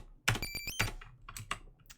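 Quick bursts of clicking keystrokes on a computer keyboard, close and crisp, with several taps tumbling together over a couple of seconds alongside a brief synth tone from a tracker music program.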